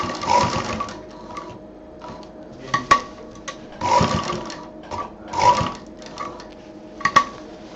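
A sewing machine stitches a fabric college bag with white thread in several short bursts of rapid mechanical whirring. Brief pauses separate the bursts, and a few clicks and clacks sound between them. No one speaks.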